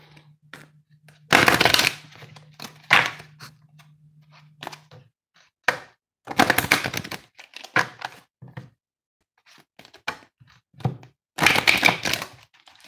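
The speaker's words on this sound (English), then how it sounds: "this is why I can shuffle the cards so well" Several bursts of riffle shuffles of playing cards with crisp, papery fluttering, separated by short pauses and light taps.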